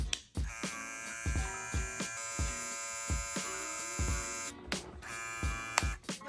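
Cocco hair clippers and trimmers switched on from their docks buzz with a steady electric hum, interrupted by several short clicks and knocks as they are handled, close by with no speech.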